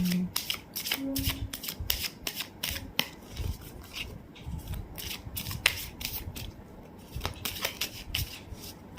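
Tarot cards being shuffled by hand during a career reading, a steady run of crisp riffling and rubbing strokes up close, with no talk over it.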